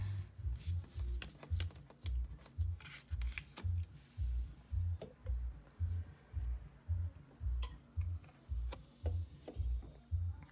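A tarot deck is shuffled with steady, rhythmic card riffles and soft rubbing, and cards are laid out on a table. The sound is close and quiet, with regular pulses and occasional small taps.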